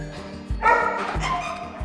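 Dogs at an animal shelter bark and yip in short sharp bursts, several close barks followed by a louder, busier stretch of yapping and whining.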